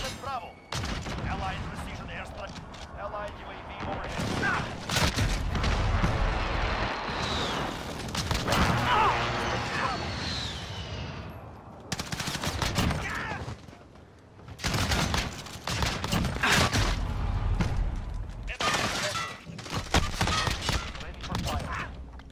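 Dense, loud gunfire rattles through a Call of Duty: Modern Warfare match on the Shipment map with an R90 shotgun, near-continuous booming shots and bursts with only brief pauses.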